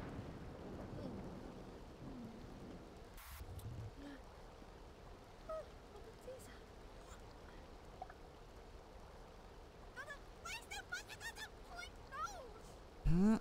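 Steady rain falls in The Sims 2 on a deserted island, a soft continuous hiss throughout with a brief thump partway, faint bird-like chirps near the end and a sharp knock at the close.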